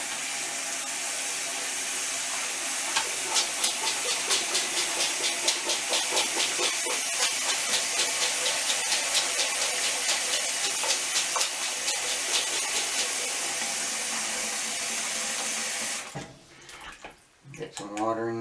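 Water is run into a 3D printed unbalanced vane pump to prime it, producing a steady loud hiss and rushing flow with rapid ticking pulses, ending abruptly into quieter handling noises and a voice.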